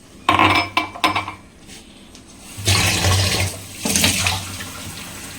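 Water pours from a tumbler and splashes in a few bursts while making gulab jamun dough, mixed with clinks of a cup or dish nearby, fairly loud and close, with no speech.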